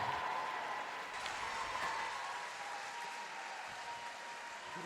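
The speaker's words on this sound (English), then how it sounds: "This crowd salutes Tia Toomey as she leaves the competition floor" A crowd at a CrossFit competition applauds an athlete as she leaves the floor, a soft, distant wash of sustained clapping that holds level before easing slightly.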